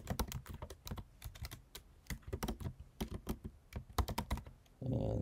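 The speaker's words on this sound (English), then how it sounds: "type in your web address." A web address is typed on a computer keyboard in quick, irregular bursts of crisp key clicks, close and fairly quiet, ending in a short, dull rustle.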